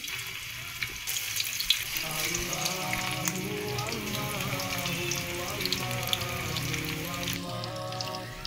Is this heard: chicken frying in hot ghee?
yes